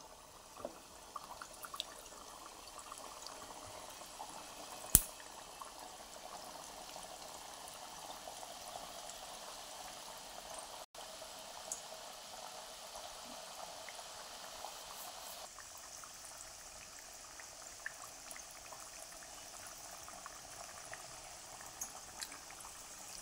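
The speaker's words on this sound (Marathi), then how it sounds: "तेल तापलेलं आहे, याच्यात टाकून घेऊया।" Rava and maida biscuits fry in hot oil, giving a faint, even sizzling hiss that runs steadily throughout with only an occasional small pop.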